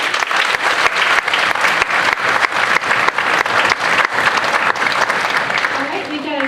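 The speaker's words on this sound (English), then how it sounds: "so if we can give him a round of applause." Applause breaks out for a soloist at a school orchestra concert. Sharp, distinct handclaps from a nearby audience ring out loud and fairly rhythmic, then begin to thin toward the end.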